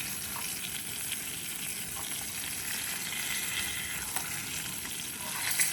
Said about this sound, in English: need some more oil. We're gonna fry those babies up